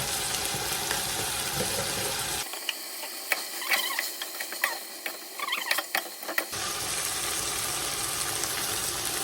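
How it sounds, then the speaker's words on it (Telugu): Chicken frying in a pan while being cooked with masala powder for homemade biryani, giving a steady close sizzle with a quieter middle stretch of scattered crackles and light stirring clinks. "చూడండి, చికెన్ బాగా ఫ్రై అయింది"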